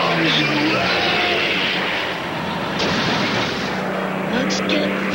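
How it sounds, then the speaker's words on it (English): Cartoon bombs drop and explode in a dense, loud, continuous barrage of rumbling blasts and whistling falls, with a sharper burst near the end. "Bombs away!"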